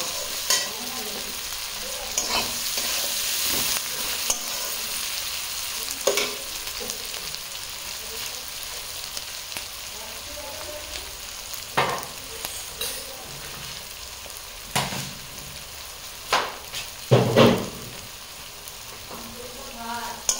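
Onions sizzle with salt, turmeric and Kashmiri chilli in a wok, a steady frying hiss broken by occasional scraping stirs and metal taps, close and fairly even, clustered clinks near the end.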